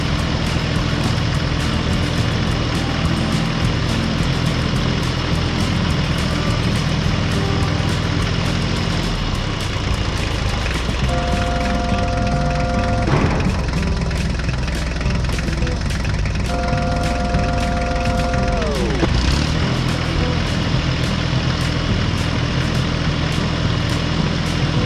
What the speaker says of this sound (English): the tractor slowly drove over the newly paved road